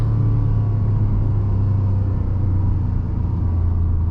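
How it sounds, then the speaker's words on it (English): Steady low engine rumble with a droning, slightly artificial-sounding intake hum as a 2026 Ford F-150 Lobo pickup accelerates, heard from inside the cab, no voices. "that intake noise that they have, because it sounds a little artificial sounding"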